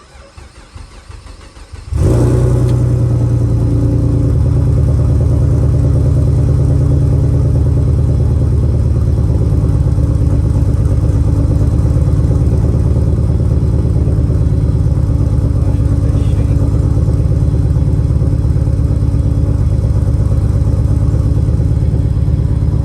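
A newly installed engine in a car whose old block was destroyed cranks, catches and settles into a loud, steady idle that runs on without a break.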